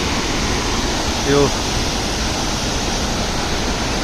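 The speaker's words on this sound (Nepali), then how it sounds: "त्यो मुहान पोखरीको झरनाबाट म अहिले तपाईहरुलाई झरनाको आवाज र" Muhan Pokhari waterfall in Shivapuri, Nepal, gives a steady, close, full-bodied rush of falling water that never lets up, with a brief spoken word rising over it.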